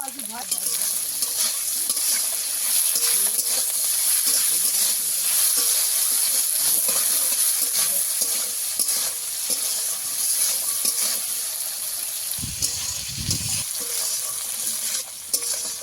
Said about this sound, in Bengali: আবারও আলু আর ডিমের শাক একসঙ্গে একটু ভেজে নেব